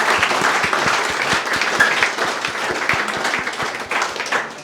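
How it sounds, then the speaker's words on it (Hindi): A crowd applauds loudly to welcome a student selected at NUSI Goa, with dense, steady clapping that continues for the whole stretch at close range. "तो एक बार जोरदार तालियों से स्वागत किया जाए निखिल का।"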